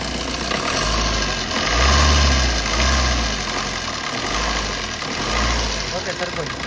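A 2014 Maruti Suzuki Swift Dzire VDI with a 1.3 litre diesel engine runs close by, its steady idle swelling twice into brief revs before settling back, with a low rumble throughout.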